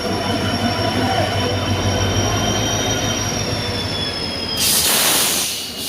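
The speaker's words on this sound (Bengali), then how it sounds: "ট্রেন আমাদের ঢুকছে প্ল্যাটফর্মে। এই হচ্ছে আমাদের ট্রেন 12857 তাম্রলিপ্ত এক্সপ্রেস" The 12857 Tamralipta Express rolls into a station platform. A loud, continuous rumble of wheels carries high, sustained squealing tones, and a burst of hissing noise comes near the end.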